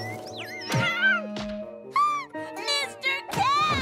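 A cartoon cat meows and yowls in several drawn-out, pitch-bending calls, loud and close, mixed with bright cartoon music and sound effects.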